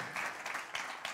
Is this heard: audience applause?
yes